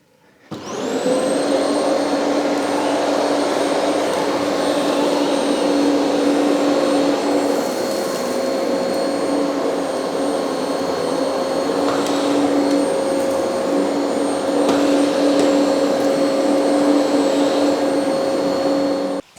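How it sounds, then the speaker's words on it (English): A Kenmore DC5070 bagless vacuum cleaner runs steadily on its carpet setting, picking up dirt from a carpet, with a loud continuous motor whine and airflow roar that holds from start to finish. "I'll switch it over to the carpet setting and we'll see how well it picks up this"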